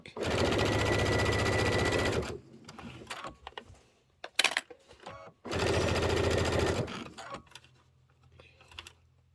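A sewing machine stitches fabric for a quilted Kimberbell pillow, running in two loud, steady bursts of rapid mechanical whirring separated by a pause filled with brief clicks and handling noises.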